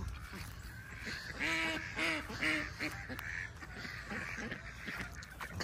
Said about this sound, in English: There's a duck on your side.